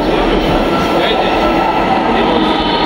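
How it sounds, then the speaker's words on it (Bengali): A metro train pulls into a crowded Dhaka station platform, its heavy, loud rumble filling the air without pause. "সামনে দেখা যাচ্ছে ট্রেন, মেট্রো রেলে চলে আসছে একটা"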